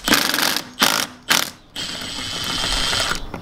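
A ratchet fitted with a 14 millimeter socket loosens a bolt while removing a Lexus GX470 armrest, three short bursts of close clicking followed by a longer continuous ratcheting run.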